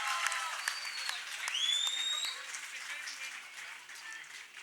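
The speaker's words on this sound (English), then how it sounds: "everybody, please put your hands together." An audience claps at a motorsports trophy and jersey unveiling, a moderate, fairly even burst of applause with whistle-like tones cutting through near the start.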